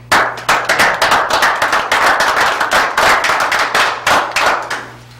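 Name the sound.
audience applause for emergency responders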